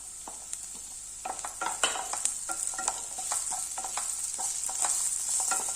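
Capsicum sautéing in a pan with a spatula, a steady bright sizzle of frying under repeated scraping and stirring strokes, close and fairly quiet, no talking.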